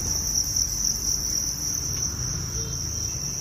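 Baby crickets hatching on egg trays fill the air with a steady, dense, high-pitched trill that runs unbroken throughout, close and constant over a low background hum.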